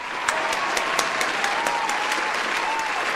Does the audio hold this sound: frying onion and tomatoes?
no